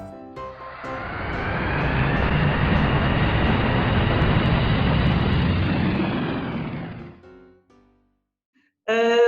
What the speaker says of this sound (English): Cabin crew, take your seats for takeoff.